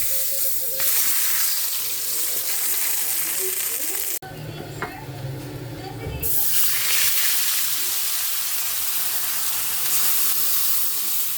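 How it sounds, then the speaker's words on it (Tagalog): Fish fries in hot oil in a home kitchen, giving a loud, continuous hiss and crackle of sizzling with a short dip partway through before the steady sizzle returns. "Magprito na po tayo ng isda."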